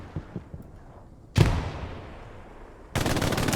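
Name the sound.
machine gun fire in a video game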